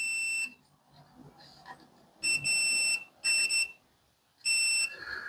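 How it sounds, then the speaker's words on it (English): A multimeter in continuity mode, used to check connector pins for ground while assembling a TI-99/22 computer, gives three clear steady electronic beeps of about a second each at an even rhythm, with quiet pauses between. "Put your multimeter into continuity mode and test which pin goes to ground"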